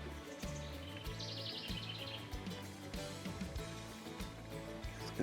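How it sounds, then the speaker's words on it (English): Birds call and chirp outdoors around an off-grid cabin, scattered high tweets over a steady background of low rhythmic thumps and ambient noise, fairly faint and distant, with no voices. "smart bird this morning. The other ones are all yelling at him."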